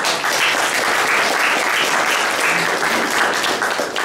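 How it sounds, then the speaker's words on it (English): An audience at a mobility debate with EU commissioners applauds panel speakers, a thick, sustained burst of clapping from a full room, loud and even from start to finish. "So I start from a man, because I want to have bigger and bigger applause."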